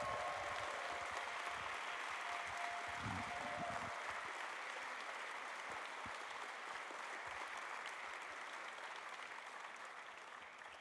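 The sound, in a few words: applause for the Electoral Commission and volunteers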